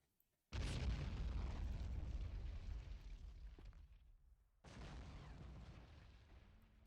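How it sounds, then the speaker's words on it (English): Two heavy mortar explosions boom in a WW1 trench-warfare strategy game set in Belleau Wood. The first blast rumbles and decays for several seconds, and a second strikes near the end. There is no talk. "I do see some mortar support coming in, so hopefully we're getting quite a bit of mortar support here."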